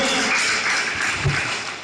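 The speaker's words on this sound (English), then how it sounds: "Can you give an applause?" Audience at a business forum applauding the Nigerian delegation, a continuous wash of clapping from a crowd that holds steady, then eases slightly toward the end.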